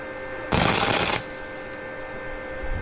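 A quick tack weld on a damaged edging shovel, a single loud crackling burst of about half a second from the welder, then a low steady hum.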